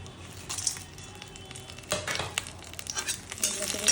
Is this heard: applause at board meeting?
no